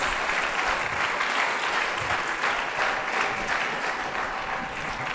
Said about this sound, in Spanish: ¿Qué le parece si le damos palmas fuertes y le decimos al Señor gracias?